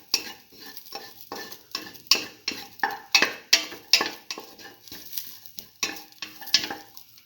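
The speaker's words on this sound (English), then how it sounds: "Keep on stirring." Ash gourd rice is stirred in a pot with a utensil, making a series of scraping, rhythmic strokes over a faint sizzle, each stroke sharp and close.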